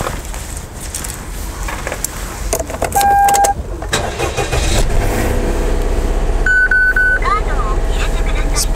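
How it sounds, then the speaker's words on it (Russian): A car engine is started with a key: electronic chimes, a short crank, then the engine catches and settles into a steady close idle, with people talking in the background. "Заводится автомобиль с ключа."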